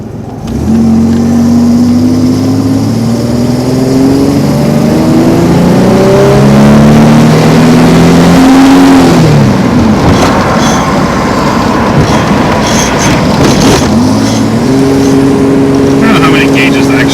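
Cummins diesel truck engine revving hard and climbing in rising harmonic sweeps, dropping off near the middle and then pulling up again, loud and close with voices talking over it.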